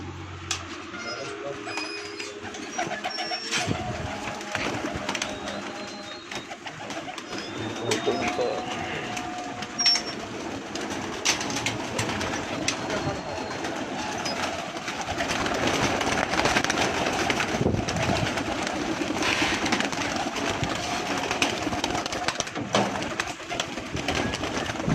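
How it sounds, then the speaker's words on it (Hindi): Pigeons coo on a rooftop loft in Pakistan, soft repeated calls scattered through a long stretch of outdoor noise, with people talking nearby and a louder rumbling background building partway through. "जनाब प्रवासी कबूतर हैं जनाब"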